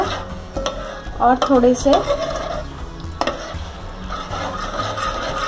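Rice kheer is stirred in a pot with a spoon, giving scraping and clinking against the metal over a soft bubbling simmer, close and continuous, while a voice speaks briefly.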